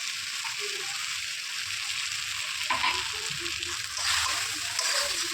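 Curry sautéing in a pan after garam masala is added, a dense continuous hiss and sizzle with stirring swells and faint clinks, close and steady.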